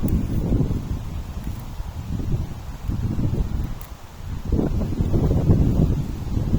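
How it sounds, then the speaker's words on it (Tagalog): Strong wind gusts on a rooftop buffet the microphone in rough, low rumbling bursts that rise and fall without pause, briefly easing midway before surging again. "Guys, kita nyo, sobrang lakas ng hangin."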